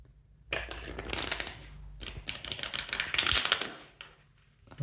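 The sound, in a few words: shuffling a deck of tarot cards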